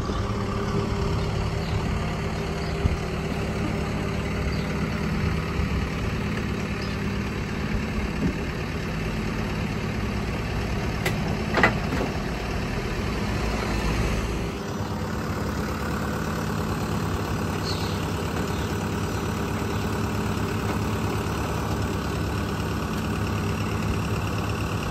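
A Citroen Picasso road-trip car sits idling, its engine giving a steady low, slightly knocking hum that stays even and continuous throughout, close by with no talk.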